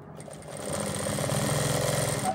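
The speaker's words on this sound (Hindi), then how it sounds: "और किनारे की सिलाई लगाते चले जाएंगे दोस्तों" A sewing machine stitches along the edge of ladies' pants, starting with a short whir and then running in a fast, steady, close mechanical rattle.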